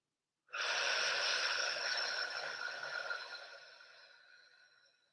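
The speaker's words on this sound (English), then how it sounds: "Take another deep breath." One long, deep, breathy exhale starts abruptly after a moment of silence, close and soft, slowly fading over several seconds.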